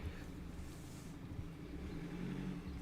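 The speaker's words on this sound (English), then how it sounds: "There's a really loud car outside." Loud car passing outside a room, a steady low engine rumble that holds at an even level throughout, with no one speaking over it.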